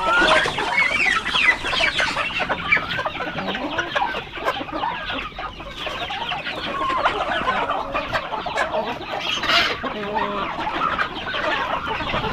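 Flock of chickens clucking steadily while being fed, a busy, dense chorus of close and overlapping clucks that carries on throughout, with a rooster-like call rising now and then.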